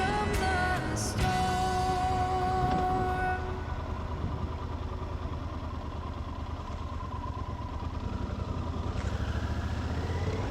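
A Yamaha Super Tenere adventure motorcycle, a 575-pound touring machine, runs with a steady engine drone, near and continuous, under faint tonal music at the start, with no one speaking.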